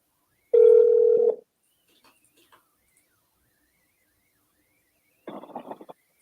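A phone call placed to a contact begins with a steady electronic tone lasting under a second. A few faint clicks follow, then silence, then a burst of ringback or line noise at the end.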